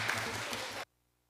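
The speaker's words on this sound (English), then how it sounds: "Give them a round of applause, folks" Brief burst of audience applause at a local area forum meeting, steady clapping from a small crowd for under a second before cutting off abruptly to near silence.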